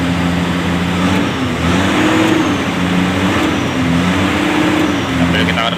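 A Hino Lohan truck's mid-range engine is revved repeatedly while the clutch pedal is held down, a steady loud drone rising and falling in pitch over several seconds, with no talk over it.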